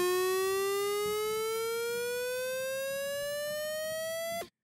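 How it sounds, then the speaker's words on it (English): A basic synth riser built in Native Instruments Massive: one bright harmonic tone glides slowly upward in pitch for about four and a half seconds, steady and loud throughout, then cuts off abruptly into silence. "you have a basic riser that you can use on a track"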